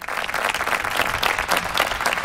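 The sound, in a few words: people applauding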